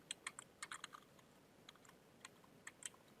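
Quiet bursts of typing on a computer keyboard while entering a router command for a DMVPN dual-hub VPN setup, irregular clusters of key clicks with short pauses between them.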